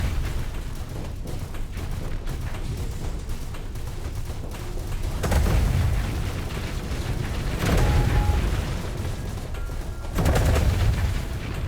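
Point defense weapons firing in the space combat game Starsector, a dense mechanical clatter of rapid gunfire that swells into several louder bursts over a constant background of battle noise.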